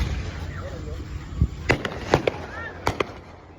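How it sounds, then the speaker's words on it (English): Fireworks set off right beside a road at night burst in a quick run of sharp pops and bangs, with people talking over the steady outdoor background. "Somebody shot the fireworks right by the road."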